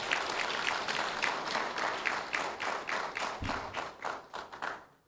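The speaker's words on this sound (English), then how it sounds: "So round of applause for the British." Conference attendees at a round table meeting give a short round of hand clapping. The brisk, even claps come from a modest crowd and thin out to a few last claps before stopping.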